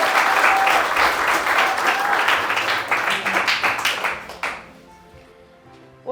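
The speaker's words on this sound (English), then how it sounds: "So a big round of applause to Federica." A live audience breaks into loud, dense applause for Federica, a teenage speaker, clapping steadily for about four seconds before it fades out, with a brief sound cutting in at the very end.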